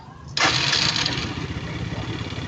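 A Yamaha Fino scooter with a replaced carburetor fires up after a brief crank, then settles into a steady, close, buzzing idle.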